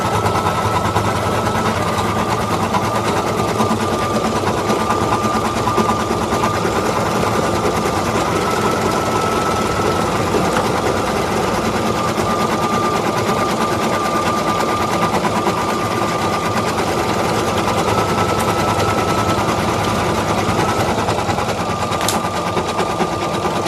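Embroidery machines stitch felt masks, their steady, rapid needle chatter running loud and continuous without pause, with a faint constant whine above it.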